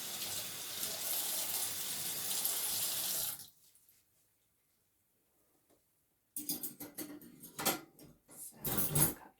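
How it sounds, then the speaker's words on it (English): Water runs steadily from a kitchen tap for a few seconds while dishes are washed, then cuts off to near silence before soft clinks and splashes of handled crockery and cutlery follow. "Sound of the water."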